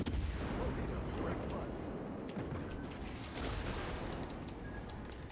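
Ship guns and torpedoes fire in the World of Warships naval game, a dense, continuous roar of booming gunfire and explosions that stays loud throughout.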